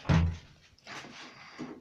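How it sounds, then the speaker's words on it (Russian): An indoor door is pushed shut with one firm thud at the start, followed by softer latching clicks and rustles. "Закрываем дверь, чтобы всякие бомжары не пришли."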